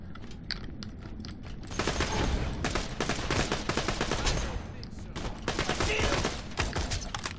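Rapid pistol gunfire in the shooter video game Borderlands: The Pre-Sequel, bursts of sharp repeated shots in two clusters with clicks and mechanical noises between them, fairly close and loud.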